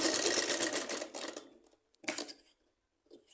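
A sewing machine stitches the crotch seam of a salwar, running in a fast rattling burst for over a second, falling silent, then giving one more short run up close.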